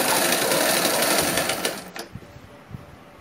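A sewing machine stitches a fall onto a saree, giving a fast, steady, close mechanical whir for about two seconds before it slows and stops, followed by a few soft knocks.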